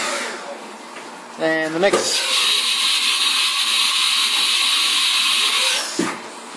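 A CNC mill machining an FX-4WD shock tower plate, a loud steady high-pitched whine of the spinning cutter that starts abruptly after a brief mechanical ramp-up and a couple of spoken words, then holds for several seconds before stopping.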